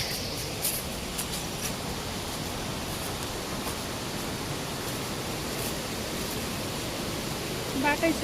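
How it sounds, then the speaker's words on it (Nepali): A hillside stream (khola) in Nuwakot, Nepal, rushing in a constant, even wash of water noise that fills the scene, with a few faint voice-like sounds near the end. "यहाँ एउटा खोला रहेछ"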